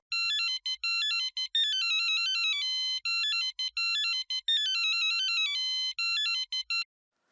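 A mobile phone ringtone for an incoming call plays a bright, looping electronic melody in repeated phrases with short pauses, clear and alone, then stops abruptly.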